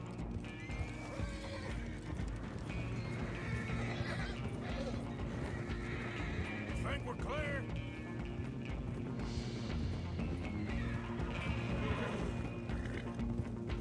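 Horse whinnies in Red Dead Redemption 2 ring out over steady hoof clip-clops and a dense, constant game background, with occasional crashes and voices mixed in.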